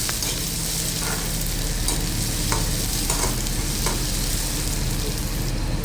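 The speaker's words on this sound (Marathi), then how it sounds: "कांदा बारीक चिरलेला तो टाकायचा आणि कांदा आपण व्यवस्थित परतून घ्यायचा आहे" Finely chopped onion fries in hot oil in a pan for an okra dish, making a loud, dense, continuous sizzle with occasional stirring clicks.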